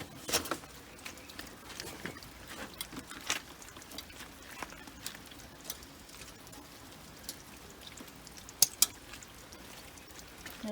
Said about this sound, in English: And thank you for bringing me out in the rain.